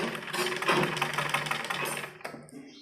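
A sewing machine runs a continuous close stitching burst along a seam of a baby frock for a one-to-two-year-old, a dense rapid whirring chatter that slows and stops near the end.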